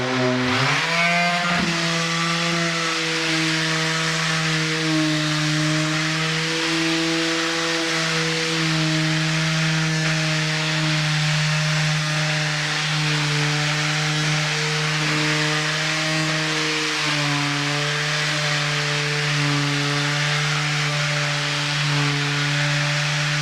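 A floor sander drones steadily at a constant pitch on an oak floor, loud and continuous, with a gritty abrasive hiss over it and no voices.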